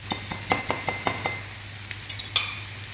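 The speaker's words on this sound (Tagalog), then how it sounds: "So, haluin muna natin konti." A utensil scrapes and clinks against a pan as egg is stirred with sautéed onion and tomato. The strokes come in a quick, regular rhythm over a soft, steady sizzle, close and clear with no talking.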